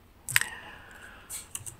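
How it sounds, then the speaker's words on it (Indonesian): A few scattered clicks come from a computer keyboard as numbers are entered, a sharp close tap followed by a couple of lighter ones in a quiet room. "Kemudian kita tap pada keyboard ya"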